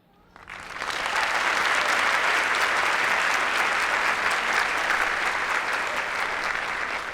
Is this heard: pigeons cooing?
no